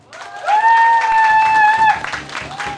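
A festival crowd at a pumba performance during the Yecheon World Bow Festival breaks into a burst of clapping that swells and then eases, with a bright sustained whistle-like tone riding over the middle.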